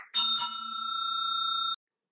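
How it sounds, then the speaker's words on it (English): A bright bicycle-bell style ding rings twice in quick succession, then a single clear metallic tone sustains and fades out cleanly after about a second and a half, alone with no talk. "Subscribe and click on the bell."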